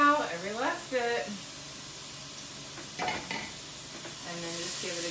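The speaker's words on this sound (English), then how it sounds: "And then just give it a good stir." Broccoli rice is stirred as it fries in a pan, a steady sizzle with scraping stir strokes, heard alongside a person talking at the start and end.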